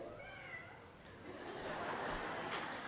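A voice imitates a cat's meow, a thin, drawn-out mewing cry, faint and brief, set against the murmur of a gathered audience.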